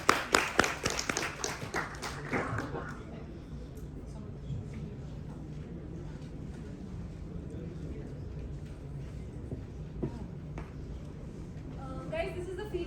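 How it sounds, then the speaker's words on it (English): Audience at a tech community conference clapping to welcome a speaker, a sparse burst of applause that fades within a few seconds into low room noise, with a voice speaking underneath. "Please welcome Mr. Abhishek Wagh with a hearty round of applause."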